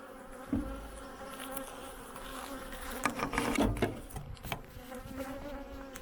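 A gentle, queenless honeybee colony hums with a close, continuous buzz during a hive inspection, while wooden frames scrape and knock occasionally.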